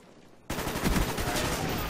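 A sudden burst of rapid gunfire erupts in Call of Duty: Black Ops, loud and dense after a brief quiet start, continuing as a sustained automatic volley.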